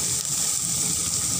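Kerala-style nadan fish curry simmers in a pan, giving a steady, close bubbling wash that carries evenly through the short moment with no voices.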